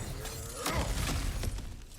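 In God of War Ragnarok, a crack in the ground is smashed open, giving a loud crunching shatter of breaking rock and debris that lasts about two seconds, with no talk over it.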